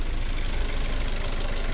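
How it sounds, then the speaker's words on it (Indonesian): A used car's engine idles steadily during a pre-purchase inspection, with a loud, even low rumble and slight vibration and nothing else heard. "Kalau mesin bergetar wajar karena mesinnya hidup"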